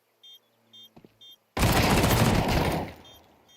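Gunfire in a professional Counter-Strike match: a few short electronic beeps and clicks give way to a sudden, dense burst of overlapping rifle shots that stays loud for over a second before fading out.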